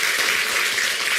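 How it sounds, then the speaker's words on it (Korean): Congregation applause during a church sermon, a brief steady burst of many hands clapping together at even volume. "우리 박수 한번 쳐줍시다"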